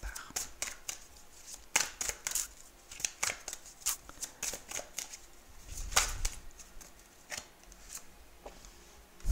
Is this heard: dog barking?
no